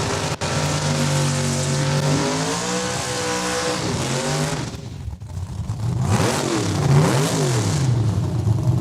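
Drag race cars, including a 64 Belvedere, launch side by side at Saskatchewan International Raceway in Saskatoon, with loud engines revving through rising and falling gear pitches and a faint tire screech, with no talk over them.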